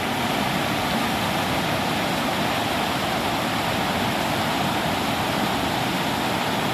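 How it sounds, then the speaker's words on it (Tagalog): Floodwater rushes with a loud, dense, unbroken roar, like a torrent, close by and filling the whole clip without any voices. "kitang kita ang baha"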